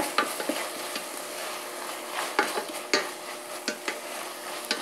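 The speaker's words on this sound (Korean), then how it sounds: "김치가 타지 않을 정도로 충분히 볶아주시면 되고요" Kimchi being stir-fried in a pan, with a steady sizzle broken by repeated scraping stirs of a utensil against the pan in an irregular rhythm, close and fairly loud, no voices.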